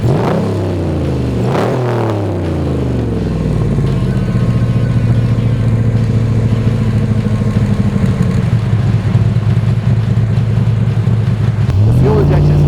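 A 1965 Shelby Cobra with a fuel-injected engine cranks and catches with two sharp revs, then settles into a loud, steady, lumpy idle close by.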